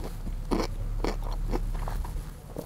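Crisp crunching bites of barrel-pickled vegetables from a wooden barrel, several in a row, close to the microphone over a steady low background hum.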